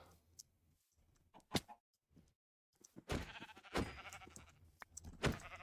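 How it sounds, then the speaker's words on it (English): Sheep bleating in the video game Minecraft, a few faint bleats and clicks at first, then louder repeated bleats with game sound effects in the second half. "I'm going to kill these sheep."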